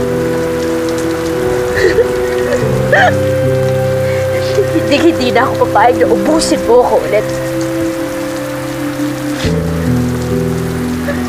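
Steady rain falling outside, a constant hiss running throughout under a Tagalog-English dramatic scene with someone speaking and background music.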